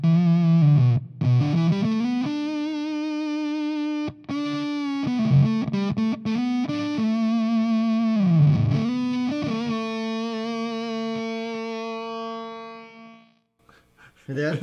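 An electric guitar runs through a clipping-circuit distortion pedal with its bias control turned for a sputtery, gated decay; sustained notes break up and stutter as they fade, with a brief pause and crackly tail at the end.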